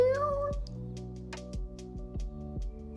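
Milo the cat gives a series of drawn-out, mournful meows from behind a closed door, fairly close and clear, with about four to five cries spaced roughly half a second apart.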